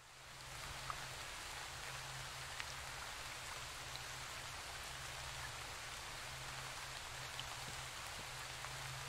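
Constant rainfall in an Indonesian folklore horror game, a broad unbroken patter of drops striking surfaces that swells in quickly and continues evenly, with no voices.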